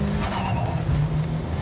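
A Mitsubishi Evo VIII skids hard under heavy braking during a brake test, a loud continuous tire scrub and squeal with engine rumble, close and sustained throughout.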